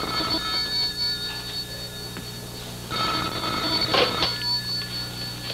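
A telephone rings indoors with short bright bell-like bursts repeating over a few seconds, fairly close and alone without speech.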